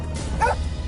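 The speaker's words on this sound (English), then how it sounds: "She barked and stopped" A dog lets out a single short bark, close and fairly loud, over a low background rumble.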